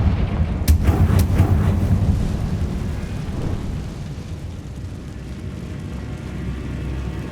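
Confringo fire-blast spell exploding in the video game Hogwarts Legacy, two sharp cracks opening a deep, rumbling boom that rolls and fades into a long, low roar.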